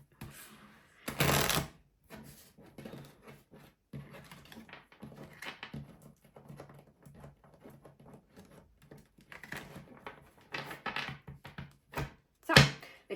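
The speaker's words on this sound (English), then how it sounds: "I like the sound of the card shuffling" Tarot cards shuffled by hand in a steady run of soft, crisp riffles and flicks, close and quiet, with a louder burst near the start and a sharp snap toward the end, no voice present.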